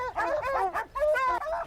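Hunting dogs bark and yelp at a cat up a tree, a quick run of close, loud, excited barks with whining tones in two bursts, no talk.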